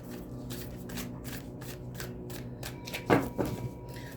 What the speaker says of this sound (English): let me get you some good shuffles in from the Dream of Gaia Tarot